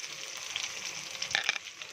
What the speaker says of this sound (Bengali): পেঁয়াজ শুকনো মরিচ রসুন চিংড়ি মাছ ভাজা ভাজা হয়ে গেছে